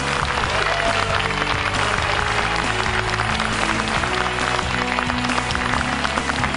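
A studio audience at a talk concert on hair loss claps steadily to welcome two dermatologists onto the stage, a dense, even wash of applause lasting throughout.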